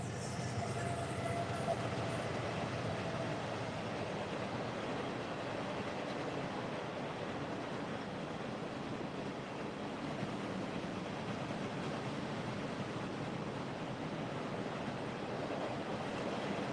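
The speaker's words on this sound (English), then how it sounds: "the train's going to be real loud here for a minute" A train rolls past loudly and continuously for the whole stretch, a dense, steady roar and rumble with a brief high squeal early on, heard alone outdoors at a fishing spot.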